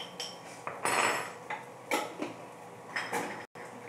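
Garam masala being quickly tossed in a pan with ghee for gatte ka pulav: several close, sharp bursts of metallic clatter and scraping, with brief quieter gaps between.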